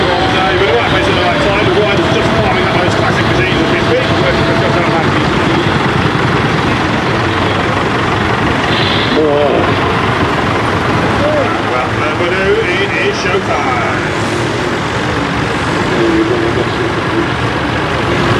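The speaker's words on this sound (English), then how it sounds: "The Ferguson 35 going past now with a mould plough on the back." A Ferguson 35 tractor pulling a mould plough drives past during a show's tractor parade, its engine a continuous loud rumble mixed with crowd noise and a commentator speaking over a public address.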